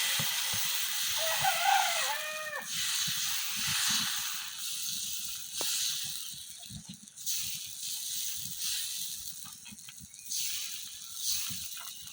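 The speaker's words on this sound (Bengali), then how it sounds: "এখন এই জায়গা থেকে 1 চামচ করে ব্যাটার নিয়ে তাওয়ার মধ্যে দিয়ে দেন।" Batter ladled a spoonful at a time onto a hot oiled tawa griddle for soft roti or paratha gives a steady close sizzling hiss throughout, with a brief birdlike call early on.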